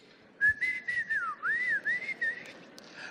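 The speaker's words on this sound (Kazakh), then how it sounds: "Су бергенде ол да еркелеп ішпей десе, ысқырып ішкізіп" A person whistles to coax a horse into drinking: one continuous, warbling, melodic whistle lasting about two and a half seconds. It is heard alone over a faint, low background hum.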